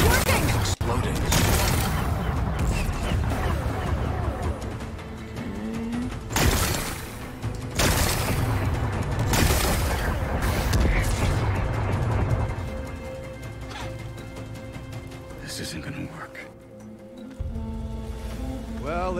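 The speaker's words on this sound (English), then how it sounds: "Gotta blast away some rocks." Rock-blasting cannon fire in Horizon Forbidden West, with several loud booming blasts and crashing debris spread across the stretch, set against game music and a steady background rumble.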